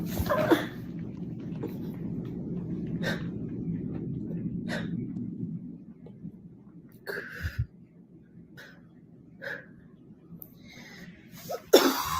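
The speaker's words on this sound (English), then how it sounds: "If you listen to her cough, that is a dry cough." A dog with a dry cough gives a few hacking coughs, spaced out over several seconds, against a low steady hum, with brief faint sounds between them.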